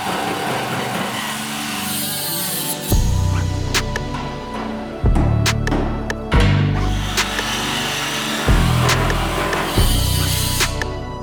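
A power tool cuts metal brackets off a drift truck's frame in a garage, loud and close, in repeated bursts that each start abruptly, run for a second or two and stop.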